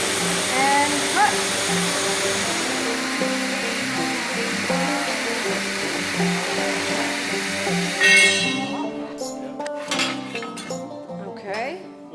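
A hydraulic saw cuts through steel angle iron for a custom art frame, a steady loud grinding whine with tonal ringing that runs continuously, then cuts off near the end and leaves scattered clinks and rattles.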